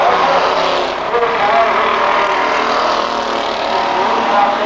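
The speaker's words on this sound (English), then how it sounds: "That car sounds pretty strong." A race car engine roars continuously at Angeles Speedway, a loud sustained drone with slight pitch shifts as the car circulates, with a commentator's voice running over it.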